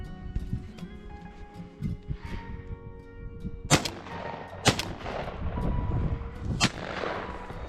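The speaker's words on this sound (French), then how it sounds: "Magnifique tir." Shotgun blasts while hunting wood pigeons in February: three sharp, loud reports spaced a second or two apart, over outdoor rustling and handling noise.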